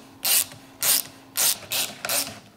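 A ratchet with a 32mm chamferless socket unthreads an air bump stop on a motorcycle fork fitted with a coil conversion kit, giving five short, crisp clicking bursts at a steady pace, close and alone.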